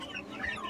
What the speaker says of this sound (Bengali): এগুলো হচ্ছে সব সোনালী মুরগি